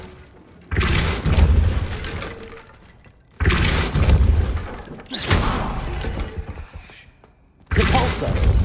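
Depulso spell impacts in Hogwarts Legacy, four heavy booming blasts with crashing, shattering debris, each lasting a couple of seconds and separated by brief near-silent gaps.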